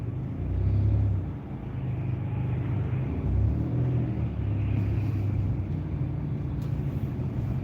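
A car creeping through stop-and-go rush hour traffic, with a steady low engine rumble and road noise inside the cabin that swells and eases as it moves and pauses.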